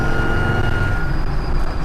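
A Land Rover TD5 engine, after an exhaust manifold replacement, runs with a steady high-pitched squeal riding over a loud, close diesel rumble for about two seconds.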